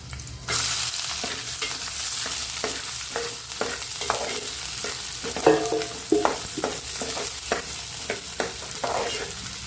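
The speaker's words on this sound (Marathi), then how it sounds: "आता आपण कांद्यांना थोडंसं असं पिंकिश होऊन देऊया" Chopped onions and curry leaves fry in a pan for an Agri-Koli style liver dish, a steady sizzle broken by repeated scraping stirs with a spoon, close and fairly loud, with no one speaking.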